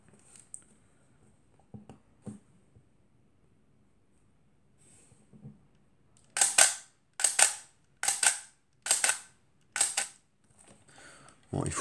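A GOMZ Leningrad camera with a Jupiter 8 50mm f2 lens fires its shutter in a quick series of about seven sharp, close mechanical clicks after a few faint handling sounds.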